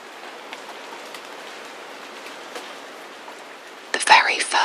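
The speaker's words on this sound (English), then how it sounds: "The very first thing that greeted me in London was rain." Steady rain falls on arrival in London, a soft continuous hiss throughout, with a louder patter of drops joining near the end.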